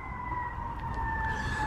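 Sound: fire engine sirens

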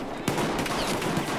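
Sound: gunfire in a shooter video game

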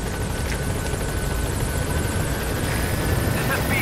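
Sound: helicopter in a video game

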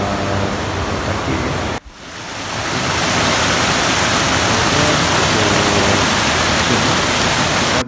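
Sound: waterfall rushing water at Curug Luhur

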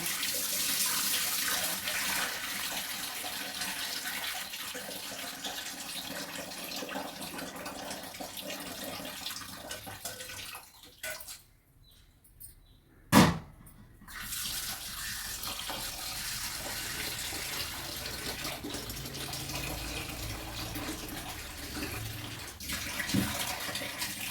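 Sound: running water while changing hot soaking water

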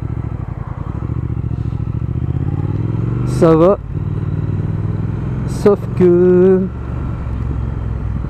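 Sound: Triumph Speed Twin motorcycle riding

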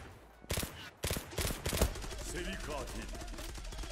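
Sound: gunfire from a weapon in the video game Zula

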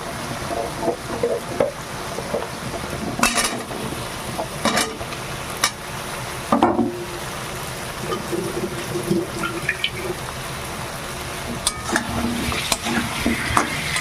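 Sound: taro being stir-fried with spices in a pan

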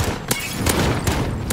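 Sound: shotgun fire in a video game

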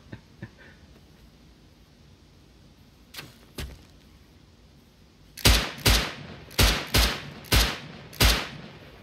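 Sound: gunfire in the video game Rust

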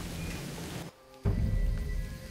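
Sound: rain in the Jurassic Park video game

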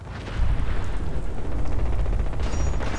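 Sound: explosion in Fallout 4 video game

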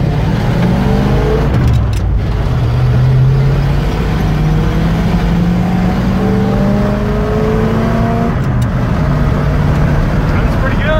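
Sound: Ford F250 with FE engine accelerating on road

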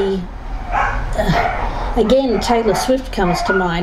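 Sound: dogs barking

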